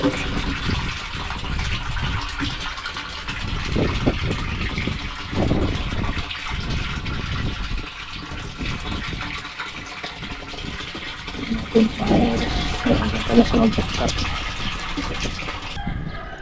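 A water pump running as it fills an overhead tank fitted with a float switch, a steady gushing flow with fluctuating splashing, close and continuous, with faint voices now and then.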